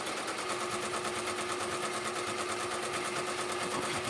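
A sewing machine runs steadily on an order at a home craft table, a close, even, rapid mechanical whir with a faint hum and no talking.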